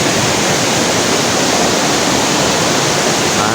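A stream of water rushes steadily and loudly in the Sri Lankan hill country around Nuwara Eliya and Hatton, a dense, unbroken broadband roar that holds at the same level throughout with no voices.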